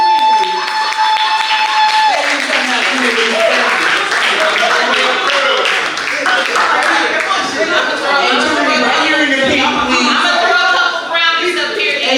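A live talk-show audience gives a round of applause, with clapping and some laughter mixed into a dense, steady crowd noise that runs the whole time, and voices carry over it.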